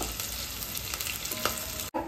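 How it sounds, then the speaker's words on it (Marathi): Chopped onion sautéing in a pan for masala rice, a steady close sizzle with occasional stirring scrapes running continuously, broken by a brief cut near the end. "कांदा परतवते जरा"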